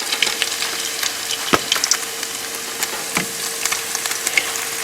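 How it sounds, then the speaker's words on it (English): Beef and cheese taquitos set face down in a pan on medium heat, giving a steady, close sizzle of frying oil with scattered small pops and crackles, no voices. "On medium heat, we're going to place about 4 taquitos in a pan face down."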